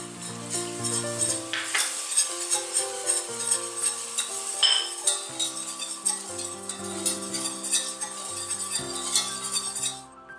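Flour stirred and cooked in a hot pan to make a light brown roux for homemade turkey pot pie, with a steady sizzle and repeated scraping and clinking of a utensil against the pan throughout.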